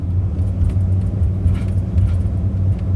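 Vehicle engine with a busted coil labouring up a hill, held at moderate revs, a steady loud low rumble with a throbbing drone heard close from inside the cab.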